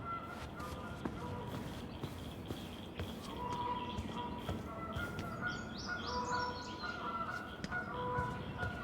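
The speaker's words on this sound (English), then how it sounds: "The birds." Birds chirping in the Tell Me Why video game, a scatter of faint, short tweets and calls over a soft ambient background, somewhat distant and quiet.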